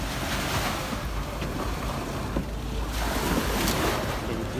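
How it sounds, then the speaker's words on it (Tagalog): A boat carrying passengers between islands off Boracay rides over ocean waves, a continuous rushing wash of water and wind blowing steadily on the microphone, with no talking. "Napabalik na kami ng bangka."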